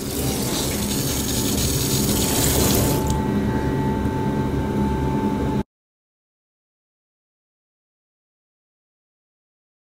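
Water washes iron chelate fertilizer off greenhouse plant leaves and flowers as a steady, loud rushing hiss for about five seconds, then cuts off abruptly into silence.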